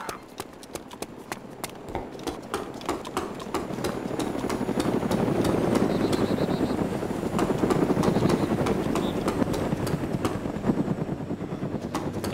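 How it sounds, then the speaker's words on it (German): A helicopter in DayZ Mod Origins, the Arma 2 mod, with rapid rotor thumps swelling louder as it approaches and a heavy engine drone that stays strong to the end, with no speech. "Helikopter kommen, ne?"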